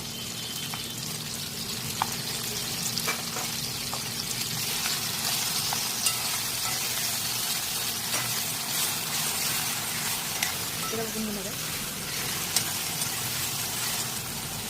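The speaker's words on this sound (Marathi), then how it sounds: "आता ठेचा आणि मिरच्या कांद्याची एकदम तडका" Chili thecha and onion tempering frying in a pan for a Khandeshi dish, a steady soft sizzle with occasional small pops and stirring clicks, close and continuous.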